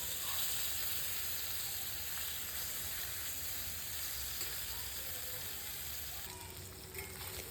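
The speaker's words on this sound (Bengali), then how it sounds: "হালকা করে মাছগুলোকে আমি ভেজে নিচ্ছি" Pieces of bhetki fish fry gently in oil, making a faint, even hissing sizzle that holds steady with only occasional small crackles.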